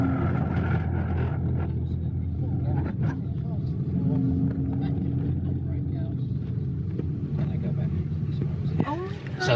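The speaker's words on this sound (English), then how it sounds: "as I come here, I'm going to give it full gas" A Land Rover or Jaguar car accelerating at full throttle around a roundabout gives a steady, loud engine roar throughout, with voices talking over it.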